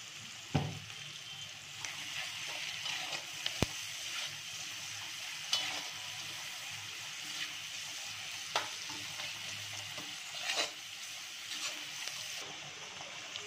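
Chopped onions sauté in hot oil, a steady soft sizzle with occasional clinks and scrapes of a spatula stirring the pan, heard close with no talking.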